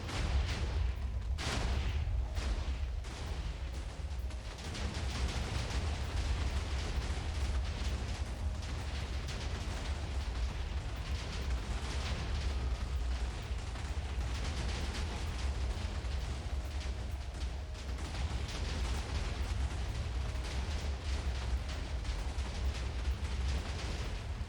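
Minecraft TNT, thousands of blocks of it, detonates in a relentless barrage of booming blasts that roll into one continuous rumble for over twenty seconds, with sharper cracks early on.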